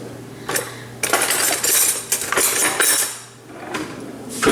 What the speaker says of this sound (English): So we just mash the potatoes.